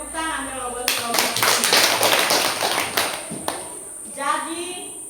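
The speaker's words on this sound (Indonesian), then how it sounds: "Tepuk tangan kelompok." A group of classroom students claps together in a burst of fast, uneven hand claps that swells and then fades, framed by a voice speaking before and after.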